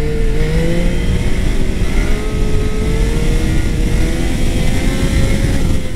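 A Yamaha Niken three-wheeled motorcycle engine revs and pulls hard on a road in Corsica, a loud, close, continuous mid-pitched drone whose pitch rises and wavers with the throttle, with wind noise and no speech.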